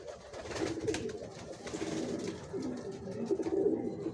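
Racing pigeons coo steadily in a loft, soft overlapping throaty calls from several birds close by, with no voices.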